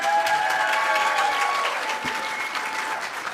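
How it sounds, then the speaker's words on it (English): An audience at a city leadership debate claps loudly and steadily throughout, a dense, continuous wash of applause with no voices standing out. "I want the applause as like a vote"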